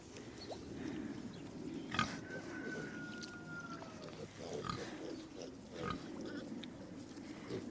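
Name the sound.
pigs grunting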